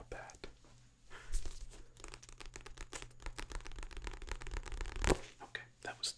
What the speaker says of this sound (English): Wasn't the best page turning performance of my career